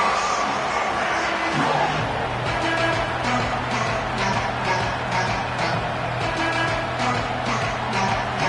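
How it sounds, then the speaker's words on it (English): A packed American football stadium crowd roars at the start of a new season, a loud, sustained wall of noise with rising cheers, heard without commentary. "This crowd ready to make its presence known."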